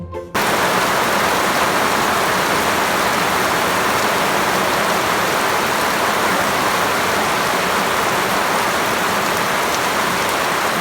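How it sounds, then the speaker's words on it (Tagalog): Heavy rain pours steadily in a loud, dense, unbroken hiss of drops striking surfaces, heard alone from start to finish. "Sa sobrang nga din nga po palang lakas ng ulan ito'y tumagal nga din nga po pala ng ilang oras."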